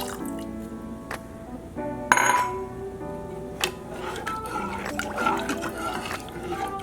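Rum is poured into a pan of hot cake syrup, giving a close liquid trickle and splash with a sharp glassy clink partway through, moderately loud with no voices.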